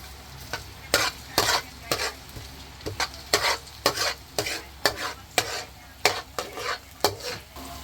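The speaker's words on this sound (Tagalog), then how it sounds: "Pag mainit na, pwede na natin igisa ang bawang" Garlic sautéing in hot oil in a kawali, with a constant sizzle under a run of quick, rhythmic spatula scrapes and clacks against the pan, close and fairly loud with no voices.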